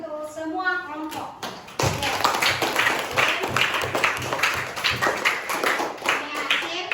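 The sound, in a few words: classroom applause for all the groups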